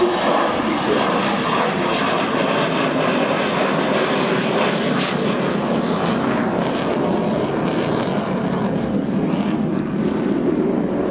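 The Avro Vulcan XH558 jet bomber flies at Farnborough Airshow 2014 with a loud, continuous engine roar that stays steady and powerful throughout, sounding fairly near and with no speech over it.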